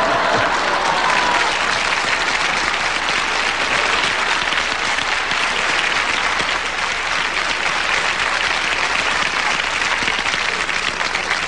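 Dense, continuous concert audience applause from a large crowd at a show in Mexico, loud and unbroken throughout.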